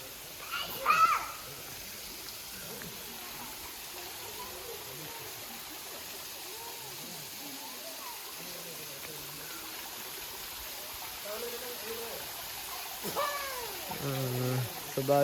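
A natural stream flows at Serenity Village in Kalatuwawa, a steady, moderate rushing hiss throughout, with people's voices briefly at the start and more talk near the end.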